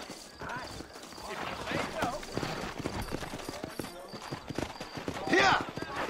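Horses clip-clopping in the Western video game Red Dead Redemption, hoof beats moving under game dialogue, with a whinny near the end and ambient background sound.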